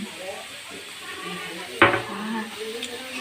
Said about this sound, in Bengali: আলুটা তাহলে একটু ভাজা ভাজা হতে থাকে